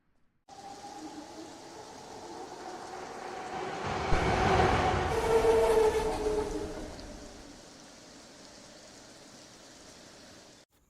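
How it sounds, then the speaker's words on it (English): A train ride in The Sims 4 gives a steady rushing whoosh that swells louder in the middle and then settles back to a softer, even hum. "she's gonna go hop on the train and head down there"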